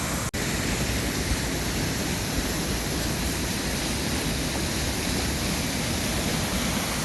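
Fast white-water river rapids rush about six feet below, a loud, steady broadband roar of churning water that fills the whole stretch without pause, with one brief click near the start.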